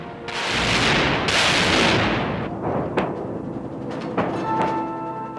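Battleship guns bombarding hostile beach fortifications, a sustained roar of heavy blasts and rumbling, with sharper reports cracking near the end.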